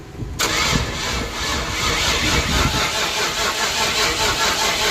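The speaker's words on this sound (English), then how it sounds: "Try to crank it again." A 1994 convertible's engine is cranked steadily without catching, a continuous churning drone that runs loud and unbroken from just after the start to the end.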